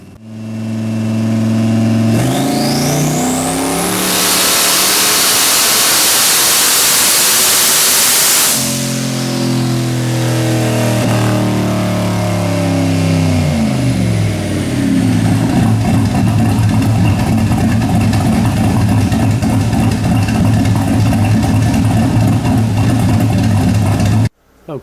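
A boosted car engine running 10 psi of boost on a dyno roars loud and close, climbing through repeated rising sweeps of revs before easing off into a steady rumble.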